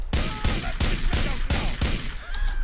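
Gunfire in Grand Theft Auto IV: five loud, evenly spaced gunshots about half a second apart, each a sharp broadband crack with a low thump, set over steady game ambience.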